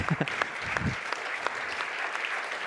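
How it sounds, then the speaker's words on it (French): Audience at a World Water Day conference applauds the participants, a steady round of clapping from a crowd, fairly close and sustained, with a few louder claps and a brief voice at the start. "on vous applaudit"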